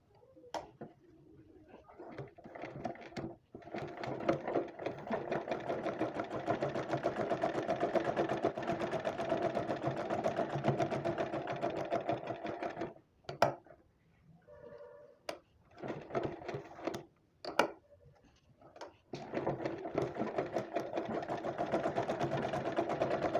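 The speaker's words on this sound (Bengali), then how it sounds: "এখন এই যে কাপড়টা এই সম্পূর্ণ দিকে আমি চাপ সেলাই দিয়ে নেব" A sewing machine runs in long steady bursts, stitching cloth for newborn nappies, with brief pauses and short restarts in between, loud and close with no talk.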